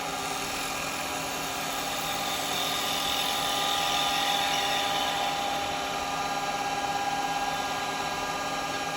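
Wood lathe spinning while a carbide chisel makes a push cut on a lidded wooden box, a loud steady whining hum with a continuous cutting hiss, unbroken for the whole stretch and with no speech.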